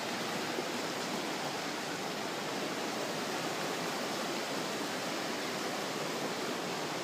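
Fast floodwater rushes through a swollen creek running five to six feet above its usual depth, a steady, dense roar that never lets up, close and loud throughout.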